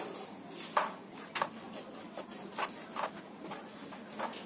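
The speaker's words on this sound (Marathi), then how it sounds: "याच्यामध्ये गर काढ आतला चमच्याने" A spoon scrapes the soft pulp out of a ramphal fruit, giving repeated short, close-up rubbing strokes at an uneven rhythm over a quiet room background.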